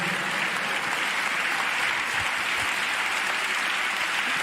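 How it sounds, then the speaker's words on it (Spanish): Worshippers in a Spanish-speaking church give an ovation to the Lord, producing a steady, loud wash of applause that fills the room evenly throughout. "¿Cuántos dan un aplauso al Señor?"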